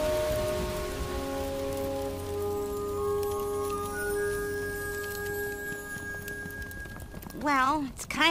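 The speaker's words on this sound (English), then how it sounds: "it's raining" Steady rain patters across a surface throughout, with a brief wavering tone near the end.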